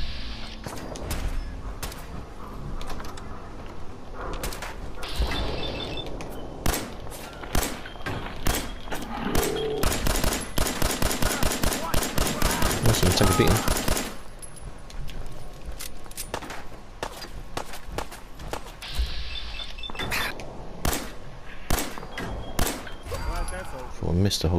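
Gunfire in Fallout 4 cracks out in scattered shots and then a dense rapid burst midway, loud and close, with talking and thuds mixed in.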